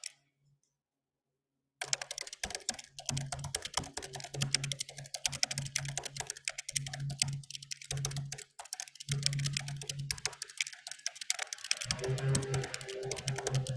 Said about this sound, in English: I'm gonna type part of that quote in the chat box